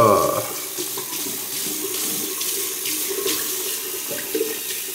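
Cold water runs steadily from a tap into a sink, a continuous close splashing stream with a brief louder gush at the start.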